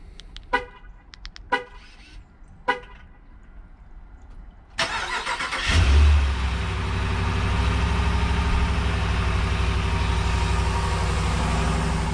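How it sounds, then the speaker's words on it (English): A 2021 Ram Laramie Sport truck cold-starts after a few short horn-like chirps, with a loud crank catching into a steady, rumbling high idle that holds to the end, close and alone. "Cold start, anybody?"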